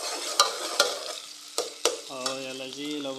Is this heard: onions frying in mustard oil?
yes